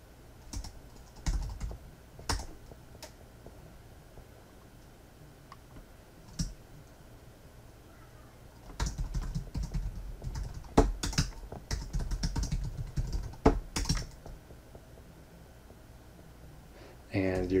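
Typing on a computer keyboard while setting up an admin user account on an Orange Pi Zero, with scattered clicks early on and a dense run of keystrokes in the middle, fairly close and moderately loud.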